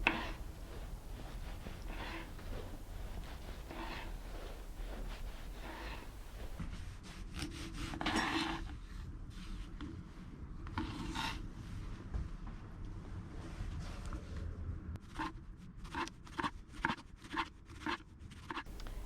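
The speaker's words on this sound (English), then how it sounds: "So we're going to cut slices of a tomato." A serrated knife saws through a tomato in repeated back-and-forth strokes, close and soft, ending in a quicker run of short cutting strokes against a board.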